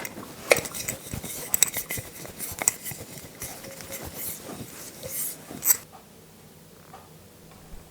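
A homemade spice mix is shaken in a lidded jar, giving several seconds of close, irregular rattling and clinking knocks that stop abruptly, leaving near silence.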